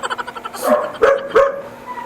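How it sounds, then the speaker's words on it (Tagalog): A dog barks a few times nearby, sharp and fairly loud, with some panting or quick huffs before the barks. "Parang galit sa'yo yung aso, ma'am."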